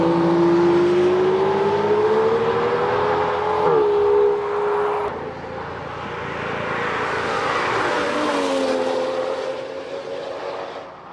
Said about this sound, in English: you can kind of hear a little V12 noise.